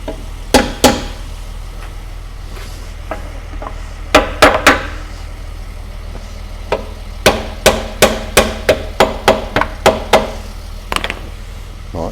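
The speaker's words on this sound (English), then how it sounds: "Decent sized hammer." A decent-sized hammer strikes metal on a 1990s Audi 80 in a yard, giving sharp, ringing clangs in irregular bursts with pauses between them, then a quicker run of evenly spaced blows near the end.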